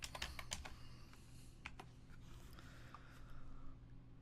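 Quiet, rapid clicking of keys on a computer keyboard, a brisk run of keystrokes at the start and then sparser taps, heard close with soft background hum.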